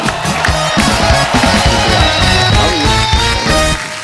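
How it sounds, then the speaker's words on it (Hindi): A studio audience on The Kapil Sharma Show greets guest Shailesh with loud, continuous applause and cheering, a dense crowd wash with a rhythmic beat underneath throughout. "जोरदार तालियां शैलेश भाई के लिए।"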